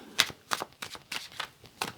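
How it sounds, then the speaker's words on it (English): Tarot cards shuffled close up, a series of quick crisp riffling bursts in an uneven rhythm, with no talking over them. "when I was actually shuffling the cards"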